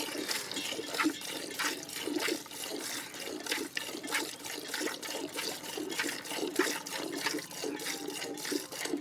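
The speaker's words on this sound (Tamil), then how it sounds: "நானே வந்து உட்காந்து கறக்கிறேன்" Milk squirts rhythmically from a cow's teats into a vessel as a newcomer hand-milks a second-calving household cow without oil, steady repeated streams close by with no talking.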